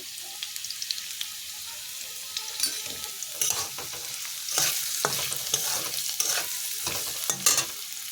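Fried potatoes being stirred in a pan with turmeric powder, a continuous sizzle with repeated scraping strokes of a spoon against the pan, louder bursts in the second half.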